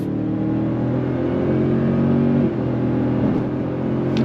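A 2025 Toyota Sequoia 1794 Edition hybrid SUV accelerating under throttle from inside the cabin, a steady loud engine drone with a brief dip as the 10-speed transmission shifts, no talking.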